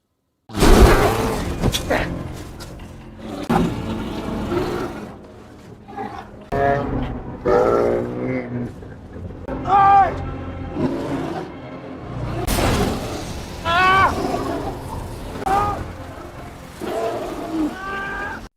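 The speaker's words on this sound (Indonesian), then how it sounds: "dikejutkan oleh suara beruang di luar" A polar bear lets out a series of deep, rough roars and growls outside, rising and falling in bursts over nearly twenty seconds.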